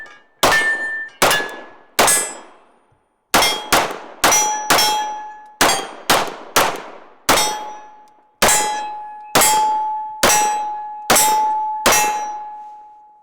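Magazines slapped into a compact 9mm handgun, a series of about fifteen sharp metallic clacks, some in quick pairs, each ringing briefly, loud and close with no talk.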